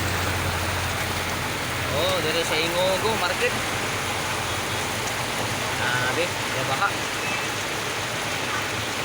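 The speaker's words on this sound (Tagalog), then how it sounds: "kusog ang ulan." Heavy rain pours down in a dense, steady hiss, while a person talks underneath it.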